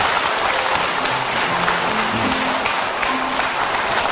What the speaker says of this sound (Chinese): 给这个孝子张卫健是不是应该有点掌声啊